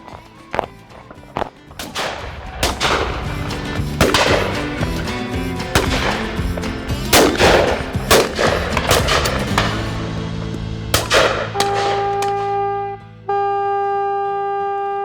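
Shotgun gunshots on a partridge and pheasant shooting drive, a string of sharp, fairly close cracks at irregular intervals, followed by a horn blast blown at the end.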